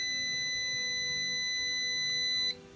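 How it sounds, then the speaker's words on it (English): An Arduino alarm buzzer triggered by an HC-SR04 ultrasonic sensor emits a steady, shrill electronic tone at close range for over two seconds, then cuts off abruptly. "the red LED will be lit and the buzzer will sound as soon as my hand is with less than 2 inches from the sensor"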